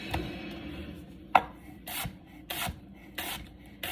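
Chef's knife slicing lengthwise through an onion on a board, a series of short crisp cuts and soft scraping strokes at an irregular pace, close and fairly quiet.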